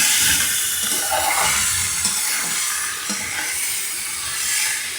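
Marinated chicken hitting a hot pan as a restaurant-style chicken dish is cooked, giving a loud, steady hissing sizzle that fills the whole stretch, close by, with no talking.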